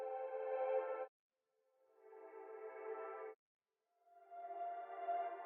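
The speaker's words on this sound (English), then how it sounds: "I just got the same pad, I reversed it and just chopped it up so it was on the right chord" A reversed, chopped synth pad from an FL Studio beat plays as three sustained chord blocks separated by short silences, each one swelling in rather than striking.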